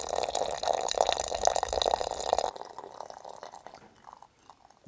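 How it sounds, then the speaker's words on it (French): Hot water is poured from a small container over ayapana leaves to make tea, a close, continuous splashing stream for about two and a half seconds, followed by a few faint drips and quiet handling. "Nous allons mettre ça dans un petit récipient là pour verser là-dessus de l'eau"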